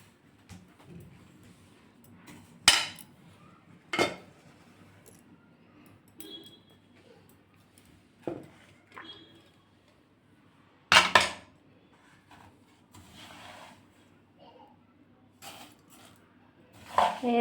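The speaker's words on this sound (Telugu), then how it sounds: "నెయ్యి వేసి కలిపి కొంచెం నువ్వులు ఈ పాకంలో వేసుకోవాలి." A spoon scrapes and clinks against a pan while sesame seeds are stirred into jaggery syrup with ghee, giving sparse sharp metallic knocks spread over quiet stretches, close and moderately loud.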